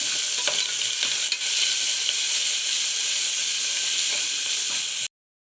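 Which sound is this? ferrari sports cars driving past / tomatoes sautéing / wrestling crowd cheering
tomatoes sautéing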